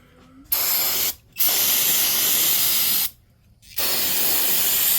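Loud hissing bursts of aerosol cleaner sprayed on engine parts of a 1997 Ford F250 Powerstroke diesel, two long sprays broken by short pauses, close by.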